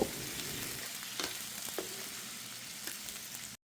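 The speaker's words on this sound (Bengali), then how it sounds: "এবার পেঁয়াজ আর রসুনটাকে ভালো মতো করে ভেজে নেব" Cubed onion and garlic fry in oil in a pan with a steady, crackling sizzle, broken by a few sharp stirring clicks and no voices.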